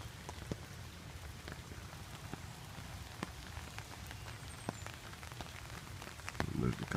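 Rain dripping outdoors beside a small marshy lake, a steady soft patter with scattered sharper drops over low background rumble, and a brief louder rustle near the end.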